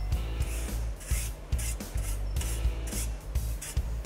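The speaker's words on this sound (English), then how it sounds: "I'm using a pointing trowel just to tidy up any mortar between the bricks." Pointing trowel scraping and tidying mortar between bricks of a garden wall, a series of rough, rasping scrapes in an uneven rhythm, close and fairly quiet, with a steady low hum underneath.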